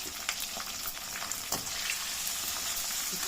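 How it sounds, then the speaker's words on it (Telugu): Green chillies with a little turmeric sizzle steadily in hot oil in a pan, a dense continuous frying crackle with brief louder pops, close and alone with no voices. "అదే నూనెలో పచ్చిమిర్చి వేసి కొద్దిగా పసుపు"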